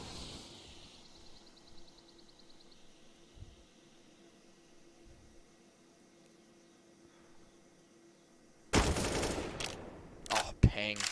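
A Counter-Strike gunfight on the map Ancient, with quiet footsteps and faint game ambience giving way to a sudden loud burst of rapid gunfire near the end, under commentary.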